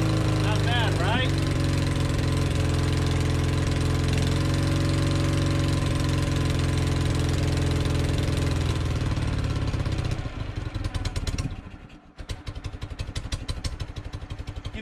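A 1965 BMW R50/2 airhead motorcycle engine runs steadily at a loud, close idle-like drone, then the throttle opens and the exhaust turns rougher and more pulsing, with a short dip near the end.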